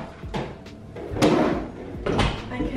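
An apartment door being shut, a few wooden knocks and thuds with a firmer closing bump near the middle and another toward the end, close and fairly loud.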